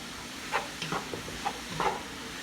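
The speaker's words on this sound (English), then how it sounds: "And then you just give it a little stir." A spoon stirring onions with black pepper in a hot pan, soft scraping strokes at an irregular rhythm over a faint steady sizzle, quiet and close.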